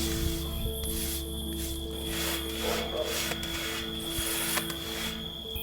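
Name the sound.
brush painting rust-stop coating onto steel stair beams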